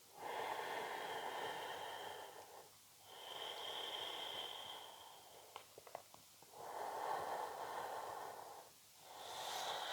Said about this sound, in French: Gardez la respiration Ujjayi.